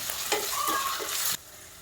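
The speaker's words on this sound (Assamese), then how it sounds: "পিঁয়াজখিনি ফ্ৰাই হৈ গৈছে, গল্ডেন ব্ৰাউন হৈ গৈছে।" Onions frying golden brown in a pan with bay leaf and ginger-garlic paste, a steady hiss with a few stirring scrapes, cutting off abruptly near the end.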